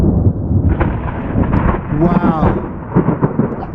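Thunder from a nearby lightning storm rumbles continuously through heavy rain, loud and close, while a person speaks a brief exclamation over it.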